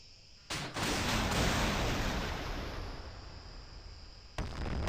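A bomber aircraft's strike lands in the Modern Warships naval combat game: a loud sustained explosive roar begins abruptly, rumbles for about four seconds, then a second blast hits.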